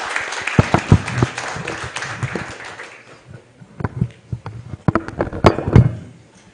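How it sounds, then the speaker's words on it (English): Close, loud audience applause after a talk at a scientific congress, thick and continuous at first, then thinning into scattered individual claps before a few final strong claps. "We're going to clap for you again."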